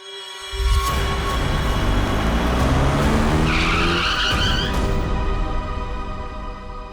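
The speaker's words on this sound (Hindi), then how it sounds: "बीच सड़क में गाड़ी क्यों रोक दी?" A car brakes hard in the middle of a road, its tires letting out a loud, sustained screech that rises and shifts in pitch before the vehicle halts.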